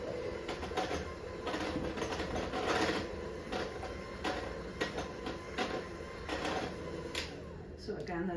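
An electric mixer churns thick gingerbread cookie dough in a bowl, a steady close mechanical whir with rhythmic knocking and rattling throughout.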